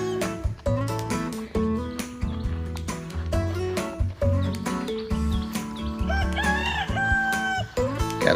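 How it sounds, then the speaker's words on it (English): Chickens on a farm cluck and a rooster crows amid a busy, loud mix of music and barnyard noise, with calls overlapping throughout. "Got a chicken out that we couldn't get in."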